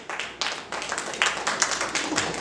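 A church congregation claps their hands during a sermon, a quick run of irregular, moderately loud claps from several people spread across the room.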